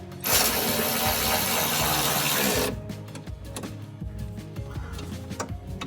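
A Milwaukee angle ratchet being turned during a lift install on a Polaris Ranger, a loud burst of rapid whirring clicks followed by quicker scattered ratcheting ticks and metallic knocks.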